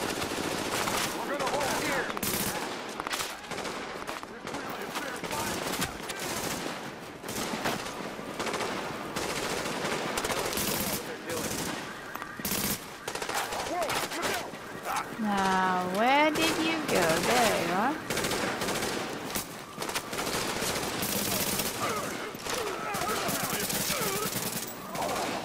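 Bursts of automatic gunfire in the video game Tom Clancy's The Division, set in Grand Central Station, come in rapid irregular volleys mixed with in-game effects and a rising tone midway, with a voice talking at times.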